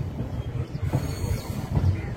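MEMU train departing Namburu station, a low rumbling rattle of wheels with rhythmic thumps as it gathers pace, heard from inside the carriage at moderate level without speech.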